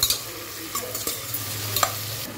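Onions frying with a pinch of salt in a pan for vegetable biryani, a soft continuous sizzle punctuated by stirring scrapes and small taps, close and quiet, no speech.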